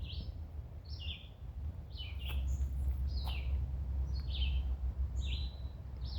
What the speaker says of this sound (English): Oh, and a cardinal.